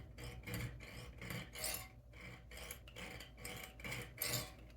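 A small hand saw cuts through a steel pin from a Movado watch bracelet, with rhythmic rasping strokes, about ten back-and-forth passes, close and quiet with no talking.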